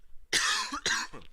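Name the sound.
cough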